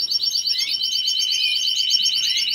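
Breeding canaries or similar cage birds chirp in a rapid, continuous high-pitched trill with sliding call notes mixed in, close and loud against a quiet background.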